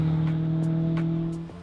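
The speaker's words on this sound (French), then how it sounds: "Sacré 205 Turbo 16," Peugeot 205 Turbo 16 rally car engine, a 1980s world rally championship car, holding a steady loud tonal drone that dips slightly near the end, with faint periodic clicks over the hum.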